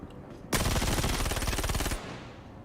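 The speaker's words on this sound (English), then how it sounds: "Shooting at me." A sustained burst of rapid automatic weapon fire in Star Citizen, loud and close, lasting about a second and a half before cutting off into a fading tail.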